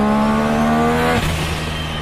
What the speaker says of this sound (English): Listen to that blow-off valve